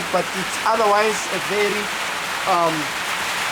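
Cloudburst rain pours on a shack in Mamelodi and leaks inside, making a steady, even hiss that runs beneath someone talking.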